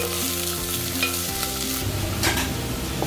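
Manathakkali berries frying in oil in a pan: a continuous loud sizzle with a low bubbling hiss, and a couple of brief scraping stirs of a spoon near the end.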